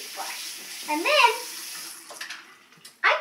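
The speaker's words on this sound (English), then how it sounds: "I put the water on my toothbrush" A bathroom water tap runs briefly onto a toothbrush, a close splashing burst near the middle, then quiet bathroom clatter and a final short gush at the end.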